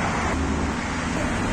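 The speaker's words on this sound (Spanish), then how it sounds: "Pero hay mucho coche, mucho ruido." Busy street traffic in Mexico, a continuous roar of passing cars heard up close.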